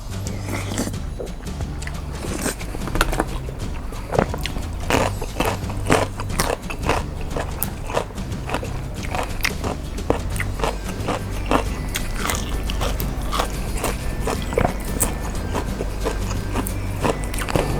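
Close, loud chewing and crunching while eating khanom jeen rice noodles with chicken feet in southern Thai curry sauce and boiled egg, a steady run of wet bites and crackly crunches with no talk.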